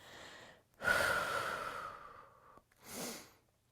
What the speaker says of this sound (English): Nice big deep breath in and out.